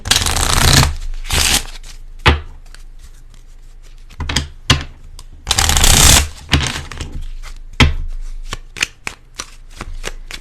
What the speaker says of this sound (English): going to pull an advice card here